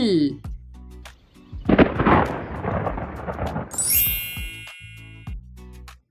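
A thunderclap rolls in with a heavy rumbling burst and rain-like wash lasting several seconds, framed by chimes and jingling tones at the start and end.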